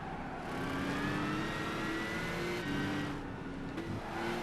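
A supercar engine in Gran Turismo 5 holds a steady, loud, high drone down a straight, with rising pitch lines and brief gear-change dips, and no voices over it.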